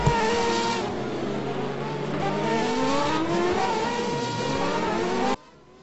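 Open-wheel race cars in a racing simulator at Istanbul Park, Turkish Grand Prix: a loud, steady engine drone rising and falling through gear changes, with several cars overlapping, ending in an abrupt cutoff.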